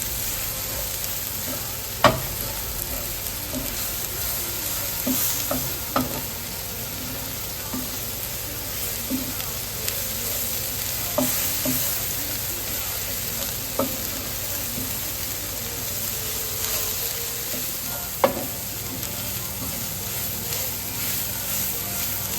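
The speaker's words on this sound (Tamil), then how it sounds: "இது நல்லா வதங்கி வந்துட்டுது." Sambal sautéing in a pan for Sri Lankan sambal rotti, a steady sizzle of frying throughout with occasional sharp clinks and scrapes of stirring, close and moderately loud, no talking.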